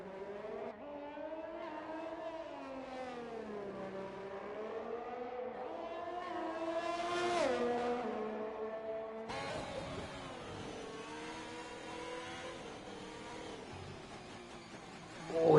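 An F1 car screams through a flying qualifying lap at Singapore in F1 2021, its high engine note rising and falling through gear changes and corners, close and continuous, with a sharp cut to another engine sound midway.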